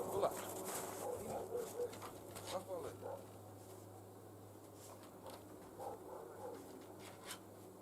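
Pigeons cooing softly while birds are fed outdoors in frosty weather, faint and somewhat distant, with a voice talking quietly over them.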